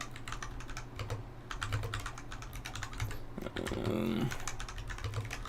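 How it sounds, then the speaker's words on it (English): Fast typing on a computer keyboard runs steadily throughout, dense clattering keystrokes up close with a brief voice-like sound partway through. "Sorry, I am typing real fast."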